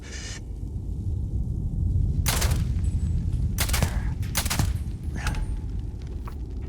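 Rifle fire in the Starfield video game: several sharp separate shots ring out over a steady low rumble of in-game ambience, fairly loud and close, with no talking.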